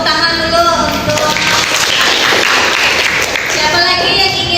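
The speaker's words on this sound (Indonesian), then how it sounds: "Tepuk tangan dulu untuk" Classroom of students applauding a classmate, a continuous loud patter of clapping with children's voices mixed in throughout.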